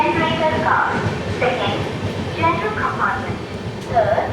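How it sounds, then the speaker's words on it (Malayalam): Vivek Express (Dibrugarh–Kanyakumari) train approaching Aluva station, a steady low rail rumble with rhythmic rattling while someone talks over it nearby. "ഇന്ത്യയിൽ ഏറ്റവും കൂടുതൽ ദൂരം ഓടുന്ന ട്രെയിന് ഇപ്പം ആലുവയിലോട്ട് കടന്നു വരും"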